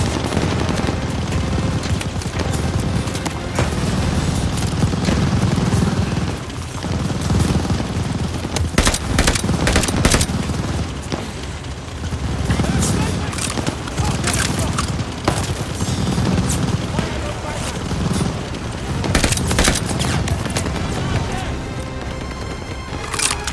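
Machine gun fire and explosions in Call of Duty: Vanguard, a dense, continuous battle soundscape with rapid bursts and heavy booms, under shouted commands from soldiers.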